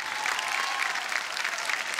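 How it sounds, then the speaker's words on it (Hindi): Energetic studio audience clapping on a televised antakshari reality show, a short continuous burst of dense applause filling the room. "भाई जोरदार तालियां।"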